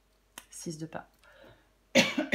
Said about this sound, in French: Je sens que je vais tousser.